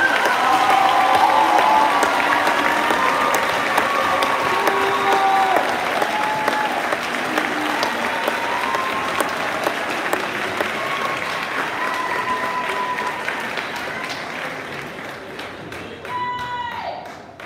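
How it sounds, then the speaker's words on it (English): Sustained applause from a crowd at a 2022 junior/senior high school graduation ceremony for the graduating students, dense steady clapping that fades slightly near the end. "Can we have a round of applause for our students?"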